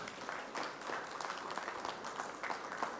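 Audience applause at a renewable energy conference, a steady patter of many hands clapping for three seconds, fairly soft and even.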